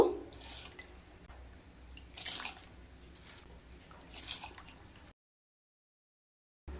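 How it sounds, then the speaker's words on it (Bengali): Rice is poured into a pot of hot water with white oil, cardamom, cloves, cinnamon and a bay leaf for navratan pulao. Soft splashing and dripping bursts repeat three times, then the sound cuts to silence. "এবার চালগুলো দিয়ে দেব।"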